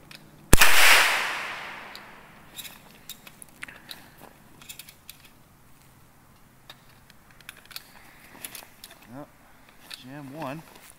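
A Henry US survival rifle fired outdoors in minus 30 cold: one sharp, loud report with a ringing decay, then quieter handling clicks and faint voices.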